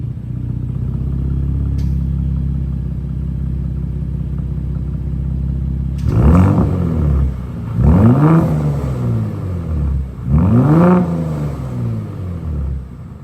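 A 2021+ Gen3 Ford Raptor truck with a 3.5L engine and AWE SwitchPath exhaust idles with a loud, steady low rumble, then gets three sharp revs that rise and fall in quick succession, close and alone.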